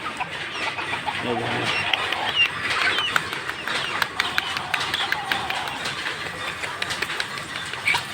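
Several free-range native hens cluck softly and irregularly while pecking at leaves, with faint scratching and tapping sounds and outdoor background noise in winter.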